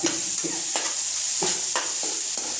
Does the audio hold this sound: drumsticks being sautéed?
yes